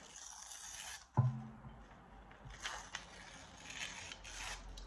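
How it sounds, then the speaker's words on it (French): Paper torn into small pieces by hand for a ritual: one sharp rip near the start, followed by quieter, scattered tearing and rustling close by, with no talking. "on va prendre le papier et on va déchirer les bouts"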